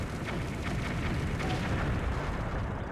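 A shop blows up in The Legend of Zelda: Twilight Princess, giving a dense, sustained rumbling blast with crackling bursts that stays loud and steady throughout, with no talking.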